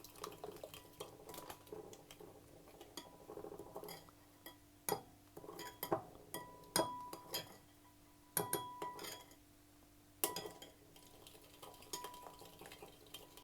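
A spoon stirring garlic salt and chili flakes in a bowl, giving quiet scraping and scattered clinks against the dish over several seconds, with a few sharper taps, faint and close in a kitchen.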